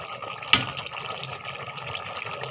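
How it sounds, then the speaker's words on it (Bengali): Water poured into a pan of chicken curry cooked with bottle gourd, a short splash at the start of the pour followed by a steady liquid trickle and simmering over low kitchen background noise. "এটাতে পানি দিয়ে দিই নয়তো নিচে দিয়ে লেগে যাবে"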